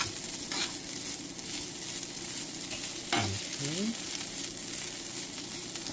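Quinoa and brown rice with garlic sizzling and frying in a pan while being stirred, a steady close crackle with scraping stirs and a brief voice-like sweep partway through.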